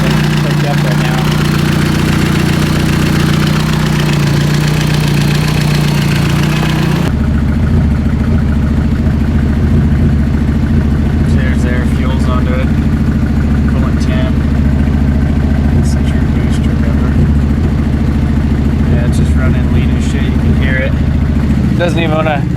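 Datsun 510 with an SR20DET engine running on old E85 after a cold start, idling in a steady, uneven, rumbling drone that never rises, while someone talks over it nearby.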